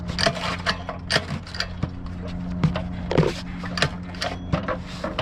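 A 212cc Predator small engine, with milk in it, is pull-started: rapid rattling, clattering strikes and recoil-rope pulls come in uneven bursts close by. A low mechanical hum runs underneath.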